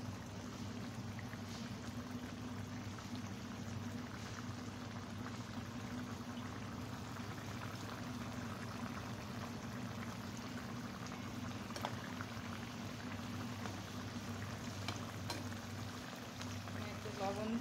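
Pangas fish curry bubbling in a pan, a steady low simmer with a constant broadband wash of liquid noise and a few soft pops, moderately quiet and continuous throughout.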